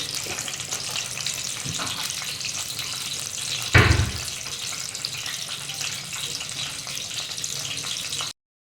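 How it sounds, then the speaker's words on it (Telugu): Mustard seeds and cumin spluttering in hot oil for an eggplant curry, a steady crackling sizzle close by with one louder pop burst midway, no talking. "ఆవాలు జీలకర్ర చిట్పట్లాడాలి"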